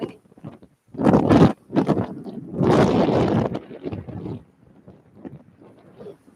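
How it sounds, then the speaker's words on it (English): Strong wind buffets the microphone on Nha Trang beach, coming in loud, broad gusts with short lulls between, and no speech is heard. "it's quite windy"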